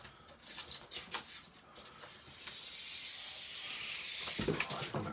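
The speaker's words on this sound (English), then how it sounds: "So I'll take that protective layer off there." A thin protective plastic film peeled from a new Stampin' Up! paper trimmer, making a long continuous crackling, hissing tear, close and fairly quiet, with a few soft knocks near the end.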